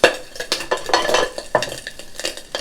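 Bacon cooking in a pan, heard as loud, close scraping and clattering of a utensil against the pan in quick irregular strokes, with a light sizzle underneath.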